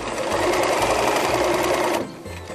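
A sewing machine stitches through a ruched fabric hat, running steadily and loudly for about two seconds before stopping, leaving quiet room tone.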